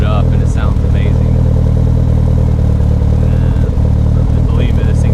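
A car's exhaust runs through a Verex muffler opened fully, giving a loud, deep, steady burbling idle with low rumbling pulses throughout, while a person talks over it.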